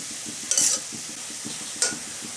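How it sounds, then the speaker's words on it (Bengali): Spatula stirring mashed spinach in a pan: a soft, continuous scraping and shuffling, close by, with a faint sizzle underneath and two brief brighter scrapes against the metal. "এইভাবে খুন্তি দিয়ে খুব ভালো করে নেড়ে ছেড়ে নিতে হবে।"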